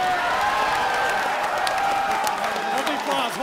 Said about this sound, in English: Hold the applause, hold the applause,